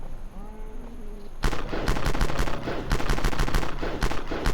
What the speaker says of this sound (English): We can actually shoot.